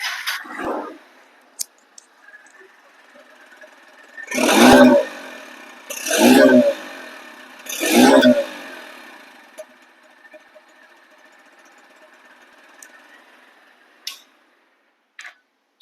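A nearly new, second-hand Honda X-Blade FI ABS motorcycle idles quietly, then its engine is revved in three short, loud bursts about two seconds apart before settling back to a soft, even idle.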